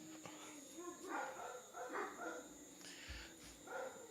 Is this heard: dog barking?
yes